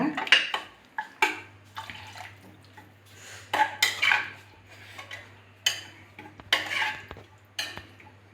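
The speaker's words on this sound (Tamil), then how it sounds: "தண்ணி சேர்த்து நல்லா கலந்து விட்டுருங்க" Spoon stirring water into egg curry in a pressure cooker, repeated close metallic scrapes and clinks against the pot with sloshing liquid in an uneven rhythm, no voices.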